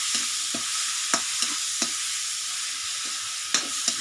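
Chicken and vegetables stir-frying in a pan keep up a constant close sizzle, with a few sharp scrapes and clacks of the spatula at irregular intervals.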